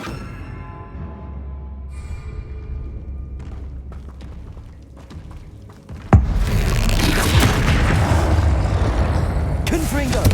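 A Confringo blast spell detonates in Hogwarts Legacy during a troll fight, a sudden loud burst that lifts the whole mix and leaves a dense roaring wash over a low rumble, following a steady background drone.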